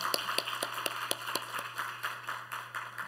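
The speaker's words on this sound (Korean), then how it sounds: "우리 격려의 박수 하도록 하겠습니다" A church congregation claps together in encouragement, a steady rhythmic run of sharp, evenly spaced claps over a low constant hum, fairly distant and moderate in level, with no talk.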